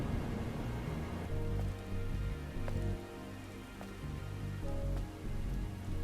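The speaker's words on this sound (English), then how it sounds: "This must be Earth's rain." Steady rain pours down in the ruined colossal city of Eidos 7 in Stellar Blade, a dense constant patter with a few sharper drops and faint tonal hums beneath, and no voices.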